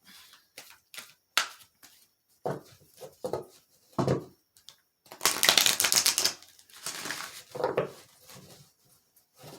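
Tarot advice cards being shuffled and pulled, heard as close papery riffles, taps and slaps in irregular bursts, with a longer shuffling flurry midway.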